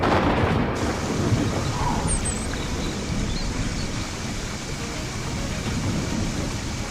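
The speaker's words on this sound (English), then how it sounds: "When the rains return," Rain falls on the Serengeti while thunder rumbles. A steady, dense wash of rain noise runs throughout with low thunder underneath, and no voices are present.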